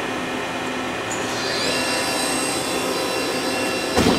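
A Hanwha ML 12 CNC Swiss lathe spindle at 6,000 RPM, heard from about a foot away, gives a steady high mechanical whine whose pitch rises and settles partway through, ending with a short clunk.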